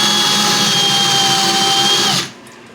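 A power drill bores through ceramic tile into drywall while a double-head slide bar is being installed, giving a loud, steady whine that cuts off abruptly near the end.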